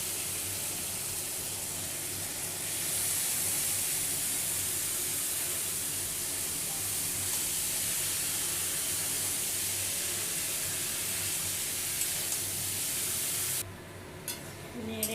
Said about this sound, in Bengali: আমার মশলাটা কষানো হয়ে গেছে, আমি এবার মোচাটা দিয়ে দেবো।